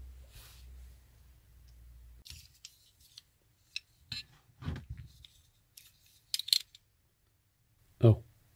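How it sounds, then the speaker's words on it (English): Stanley knife blade cutting underneath an old gasket on a Chipmaster lathe coolant pump, a series of short, sharp scraping and snipping strokes spaced irregularly, close up and moderately loud, ending in one louder slice. "So I will try to save it with a Stanley knife, just to cut underneath."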